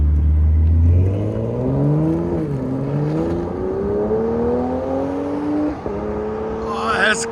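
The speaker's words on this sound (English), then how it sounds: "This is the valves open. It's in sport mode. It's pushing 400 horsepower." A BMW M340i with its 3.0-liter turbocharged inline-six and Dinan exhaust, valves open in sport mode, revs and pulls hard from close by, pitch climbing steadily with a brief shift dip, loud and alone.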